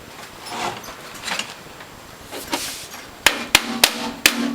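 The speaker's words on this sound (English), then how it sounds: "we can give it a tap with a hammer" Hammer taps a premium base plate into place on a Norwalk juicer: four sharp metallic knocks in quick succession near the end, close and clear after a stretch of quiet handling noise.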